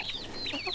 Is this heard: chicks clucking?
yes